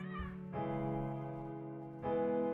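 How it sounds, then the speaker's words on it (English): A frightened cat meows frantically in long, strained, harmonic cries, one rising after a short break, close and loud with no talk over it. "meows grow frantic. She sounded scared, like she was trying to escape."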